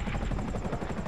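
A helicopter in the GTA Online video game gives a brief burst of rapid rotor thumping, loud and close for about a second.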